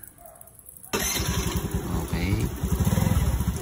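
A Honda Navi scooter-style motorcycle push-starts after a short quiet stretch and settles into a steady, close, pulsing idle with a faint high whine, while a voice speaks briefly.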